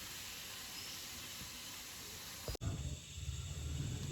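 A pressure cooker vents steam with a steady, loud hiss while chickpea chicken cooks on the stove. The hiss cuts off abruptly after about two and a half seconds, leaving a lower rumbling hiss.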